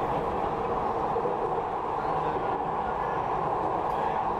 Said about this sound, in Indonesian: Kereta ini menuju stasiun akhir